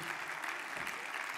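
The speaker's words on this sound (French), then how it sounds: "Je vous demande de l'applaudir." A conference audience applauds an introduced speaker, a dense continuous patter of many hands clapping at moderate level, even and unbroken for the whole moment.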